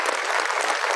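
An audience at a pre-primary school convocation ceremony breaks into dense, even applause. The clapping is steady and close, with no voices over it.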